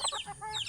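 A chicken gives a quick burst of clucks, several short, close calls in rapid succession with no talk.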